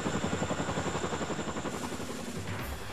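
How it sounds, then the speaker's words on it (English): A tandem-rotor Chinook helicopter thrums steadily with a rapid, pulsing rotor beat, loud and close, holding constant throughout. "large helicopters like the Chinook CF-47 are apparently getting much easier to fly"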